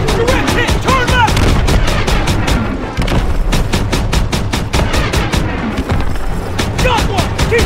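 Dense gunfire from Call of Duty: WWII, with rapid machine-gun bursts and rifle shots overlapping heavy booms in a loud, continuous battle, while shouted voices cut through the barrage.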